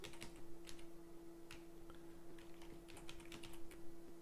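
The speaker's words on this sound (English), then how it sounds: "Typing" Steady keystrokes on a computer keyboard while entering CSV header fields during Python web scraping work, a quiet irregular run of clicks with one faint steady tone underneath and no talking.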